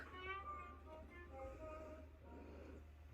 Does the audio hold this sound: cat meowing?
yes